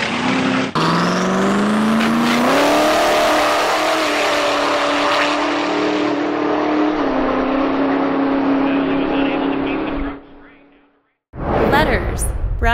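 Diesel motorsport engine revving hard and rising in pitch, a loud sustained roaring drone that cuts off near the end before another burst of sound, with announcer-style talk.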